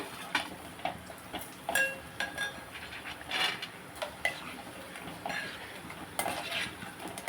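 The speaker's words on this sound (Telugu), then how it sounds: "కొన్ని గుమ్మడి వడియాలు కొన్ని మినపొడియాలు వేపుతున్నాను" Pumpkin vadiyalu fry in hot oil for a lunch of dal and tomato, a faint crackle with intermittent light clinks and scrapes of a utensil against the pan.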